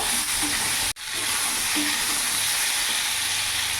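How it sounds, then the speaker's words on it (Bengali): Ridge gourd and potato sizzle in oil in a pan while being stirred, a steady close frying hiss with soft scraping, briefly cut off just before the first second. "নাড়াচাড়া করে আমি একটু ভাজা ভাজা করে নেব।"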